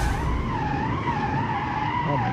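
A high-performance car in BeamNG.drive brakes hard at high speed, its tyres letting out a loud, continuous skidding squeal over a low engine rumble.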